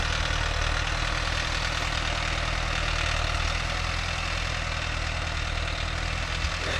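A Mahindra Novo 605 S tractor engine running steadily near a cultivator field, a constant low droning rumble that holds the same level throughout without speech.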